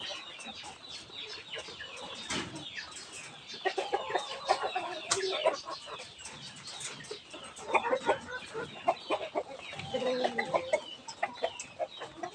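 Roosters and hens of a farm flock cluck and murmur steadily throughout, with busier bursts of clucking coming and going over a constant low backdrop.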